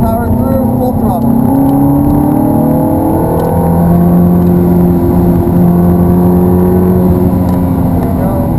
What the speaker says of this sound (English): Unwind and power through, full throttle.